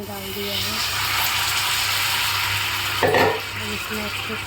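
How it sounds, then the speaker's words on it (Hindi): A pan of jaggery and water is stirred on the stove for homemade cough syrup, giving a continuous soft sizzling, watery swirl with a brief louder scrape, while someone talks over it. "इसमें अच्छे से मैं इसको मिक्स करते जाऊँगी, चलाते जाऊँगी जब तक इसमें उबाल ना आ जाए"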